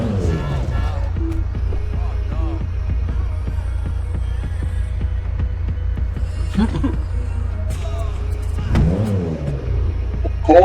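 A steady low car engine drone with throbbing hum in a video game runs throughout, swelling briefly near the end, with voices talking over it.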